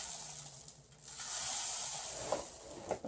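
Dry sand poured into an already full jar of stones, a steady gritty hiss and rustle lasting a few seconds with small trickling bursts near the end; no talking.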